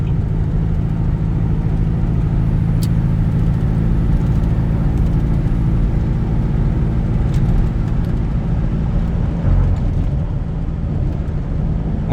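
A loud, continuous heavy truck engine drone rumbles steadily from nearby, with a faint whistling turbo whine above it and no talking.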